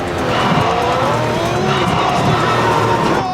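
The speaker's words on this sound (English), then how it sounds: "Oh no, Freak loses the back of the car, spins." A race car in a racing video game loses its rear and spins, with a steady loud engine roar and skidding texture under faint crowd-like background noise.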